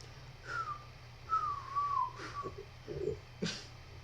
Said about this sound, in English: You whistle exactly the same as me.